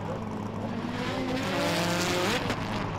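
A race car with a small Nissan SR20 engine screams around the track, its rising high-revving whine sweeping upward with a brief tyre squeal, heard from a moderate distance over crowd noise.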